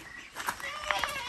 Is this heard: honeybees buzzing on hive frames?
no